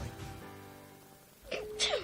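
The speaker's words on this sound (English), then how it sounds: "That sneeze was in a different zip code, and I still felt the germs." A short, sharp sneeze bursts out near the end, following a stretch of low music with sustained tones.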